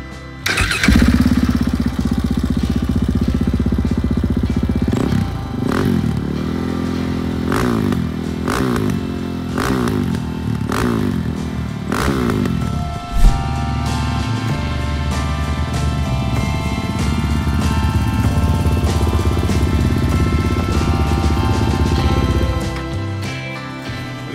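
A single-cylinder motorcycle engine kicks to life, revs in several sharp bursts with mechanical clatter, then settles into a steady, loping idle close by.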